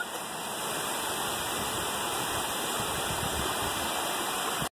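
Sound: water flowing through the Flume Gorge

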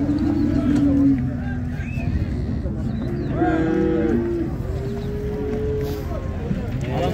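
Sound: calves mooing at a livestock market

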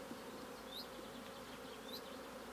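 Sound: honey bees buzzing at an apiary hive

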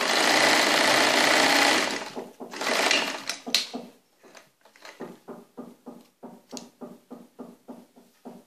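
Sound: sewing machine stitching an abaya

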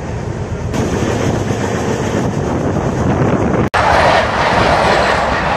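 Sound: Purvanchal Express train running, clickety-clack

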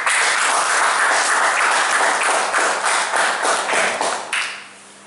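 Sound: audience applause at Toastmasters meeting

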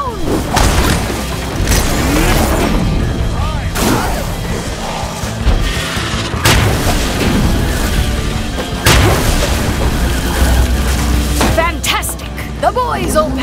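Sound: gunfire and explosions shooting down flying monsters, Sunset Overdrive video game

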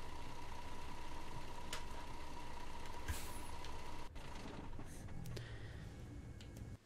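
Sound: bus engine idling in video game Fernbus Simulator

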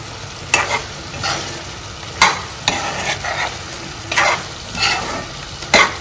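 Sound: chicken cooking with gongura leaves in a pan

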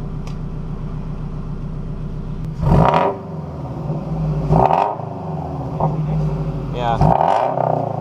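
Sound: Subaru FRS engine revving with Nameless Performance frontpipe

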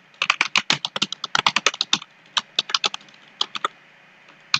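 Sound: typing code on a computer keyboard

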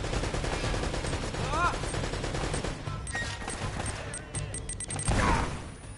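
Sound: gunfire in video game Uncharted, Nathan Drake

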